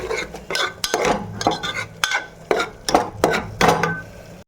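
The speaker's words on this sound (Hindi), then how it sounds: "अब प्याज टमाटर को मिक्स कर देते हैं।" Onion and tomato are stirred in a pan with a spatula, producing a rhythmic series of close scraping and clattering strokes, roughly one or two per second, over a light sizzle.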